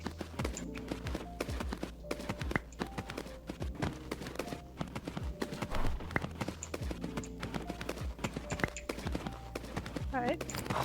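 Rhythmic hoofbeats of a horse cantering in the Star Stable video game, a steady clip-clop over layered game music and ambience, with a voice speaking in between.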